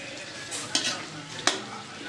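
Taro (gabi) goes into a frying pan, sizzling close-up with a soft continuous hiss, broken by two sharp scraping stirs of a utensil against the pan.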